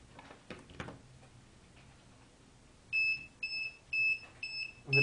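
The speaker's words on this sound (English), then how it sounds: "The bell is now ringing." An electric bell switched on through an eye-movement (EOG) controlled cursor rings in a series of about five short, steady electronic bursts with brief gaps, loud and close after a quieter opening.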